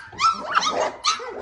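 Young doodle puppies bark and yip in close, excited bursts across the short moment, with high whimpery tones mixed in and no talk over them.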